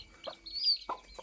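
Two-month-old Erode-cross chicks give a few short, close clucks and a brief higher chirp in quick succession, with no talk over them.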